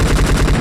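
PUBG Mobile gunfire knocks down an enemy in a rapid, loud burst of repeated shots, close and continuous with no voices.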